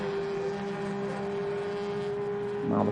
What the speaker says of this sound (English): There goes the pace car.